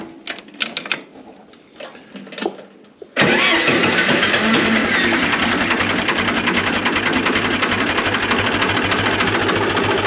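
An engine cranks over and fires, then settles into a loud, steady idle in neutral, warming up with a continuous rough rumble; a few light knocks and handling sounds come just before the start.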